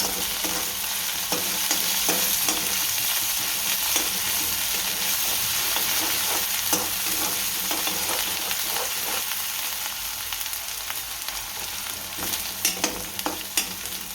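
Chopped onions, garlic and chillies fry in a hot pan with a loud, continuous sizzle, broken by scraping and stirring clicks that grow more scattered toward the end.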